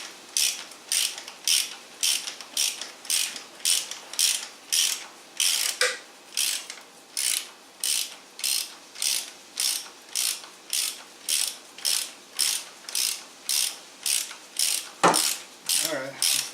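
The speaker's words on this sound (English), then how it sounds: "get a good socket, spark plug socket and extensions, so they don't get undone once you put them down into the wheel" A ratchet with a spark plug socket and extensions works a spark plug loose on a 2005 Chrysler Sebring, giving a long, steady run of evenly spaced clicking strokes near the mic, with a brief knock near the end.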